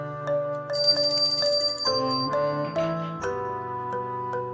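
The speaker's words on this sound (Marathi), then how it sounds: "तर देवपूजा करण्याआधी आपण घंटा वाजवावी" A small brass puja bell rings before worship in a series of bright, clear strokes, each tone overlapping and decaying in turn, fairly soft and heard alone without talk.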